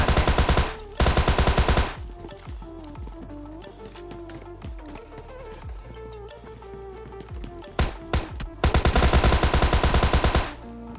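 Thompson submachine gun bursts in PUBG Lite, loud rapid automatic fire near the start and again toward the end, with quieter game ambience, footsteps and scattered shots between, no talk.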